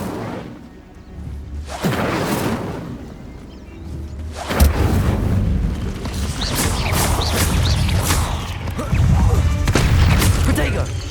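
An Incendio fire spell cast in the video game Hogwarts Legacy, bursting with a loud, sudden boom partway through. Roaring, crackling combat noise follows and keeps building afterward.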